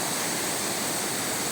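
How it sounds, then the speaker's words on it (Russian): Chasha Manasa waterfall in Barskoon gorge, Teskey Ala-Too mountains, pours as a steady, dense broadband roar of falling water, close and unbroken throughout. "Водопад называется Чаша Манаса."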